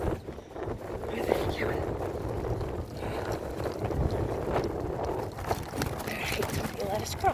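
Gusty wind buffets a microphone during an outdoor walk, a low rumbling roar that swells and dips throughout, close and fairly strong, with faint footsteps underneath.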